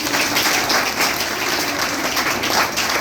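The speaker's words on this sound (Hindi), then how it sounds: "जोरदार ताली बजाइएगा।" An audience at a speech event at a computer institute in Maner, Patna, applauds loudly, the dense clapping continuous and close for the whole stretch.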